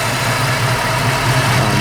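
A 1965 Mustang coupe restomod with a late-model 5.0 liter V8 idles, a steady low engine rumble, close and even, without talk.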